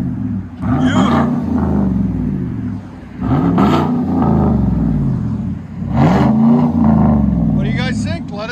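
Chevy Suburban 5.3L V8 with a Dynomax Race Bullet exhaust revs up in three loud, rumbling bursts with brief dips between them. It sounds close by, and a voice can be heard faintly over the engine.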